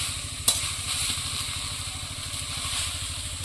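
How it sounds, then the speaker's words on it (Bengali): Kohlrabi leaves dry-frying in a wok without oil over low heat, giving a steady close sizzle with faint stirring scrapes and a couple of sharp clacks, alone without talk. "এবার শুকনো কড়াইতে শাকগুলো ভাজা করে দেবো"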